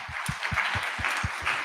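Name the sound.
round of applause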